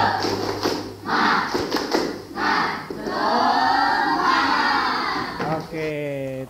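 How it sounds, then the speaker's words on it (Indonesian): A school class performs a spirited rhythmic clapping chant, bursts of claps alternating with loud group shouting, the voices rising into a sustained chorus before a few final claps. "Siap, Jeff, silakan. Tepuk semangat."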